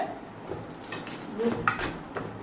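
Three metal spoons of different sizes handled in a home kitchen, giving a few light scattered clinks and taps, fairly close and soft, with no voices.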